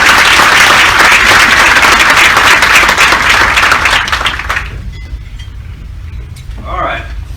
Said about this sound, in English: please help me give them another round of applause